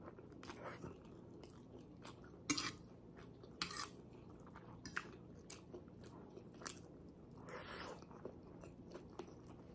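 Crunchy chewing of chicharon pork rinds at a Filipino mukbang meal, with a series of sharp, close bites and crackling crunches spread irregularly over steady soft mouth sounds, no talking.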